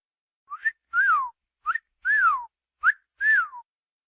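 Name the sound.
whistling imitating a parrot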